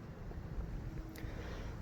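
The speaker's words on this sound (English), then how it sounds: "It's a little windy." Steady wind buffets the microphone outdoors in a vegetable garden among tomato and pepper plants, a continuous low rumbling roar with gusty fluctuations and no voices.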